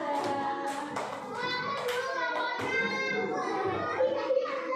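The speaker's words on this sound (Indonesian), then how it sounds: "Tepuk tangan untuk kelompoknya Mas Desa" A classroom full of first-grade children chattering, with scattered clapping for a group mixed into the lively noise throughout.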